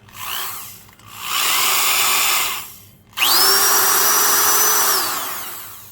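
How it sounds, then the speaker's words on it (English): A Skil 223 Super-Duty 3/8-inch corded drill, freshly greased and serviced, whirs steadily in three bursts, spinning up and winding down between runs, loud and close with a high motor whine. "review and service teardown of the Type 3 Skil 223 3/8" Carpenters drill"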